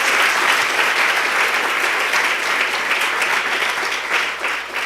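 A church congregation applauds loudly and steadily during a live service, a dense, continuous wash of many hands clapping with no gaps.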